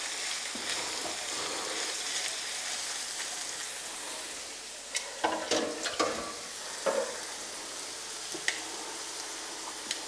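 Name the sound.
carrot added to onions frying in a pan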